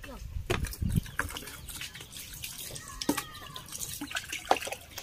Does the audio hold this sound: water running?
yes